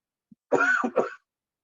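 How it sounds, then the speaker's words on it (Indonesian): A single cough, close and fairly loud, followed by a brief second cough, with silence around it. "Maaf saya batuk."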